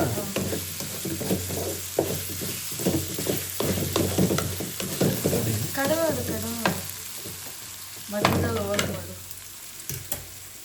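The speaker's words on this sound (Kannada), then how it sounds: "ಇವಾಗ ನಾನು ಮೊಟ್ಟೆ ಹಾಕ್ತಿದ್ದೀನಿ" Eggs sizzle and crackle in a hot pan while egg rice is cooked, with stirring scrapes and clinks throughout at close range, and speech is heard faintly at times.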